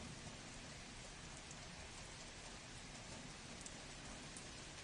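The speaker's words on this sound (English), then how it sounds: "Why is the rain so loud?" Steady rain pours down in a continuous even hiss, soft but unbroken, with no voices.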